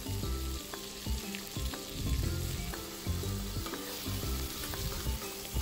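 Chopped tomatoes sauté in a pan for a Saidapet-style vada curry, giving a steady, close sizzle with soft irregular stirring scrapes throughout and no talking.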